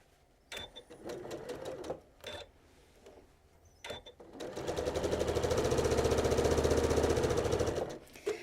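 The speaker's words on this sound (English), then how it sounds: "Okay, now we can sew this one." A sewing machine stitches a seam in a steady fast run of needle strokes lasting several seconds, preceded by short bursts, handling and brief pauses.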